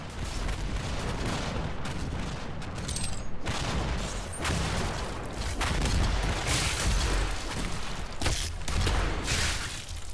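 Rocket launcher fire and a blast in the DOOM beta, dense loud booming gunfire and explosions filling the whole stretch without pause.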